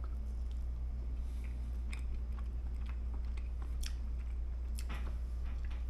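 An omelette cooked inside an egg with ham and onions is bitten and chewed close up, giving soft, moist squishes and faint crunches over a low steady hum. No one talks.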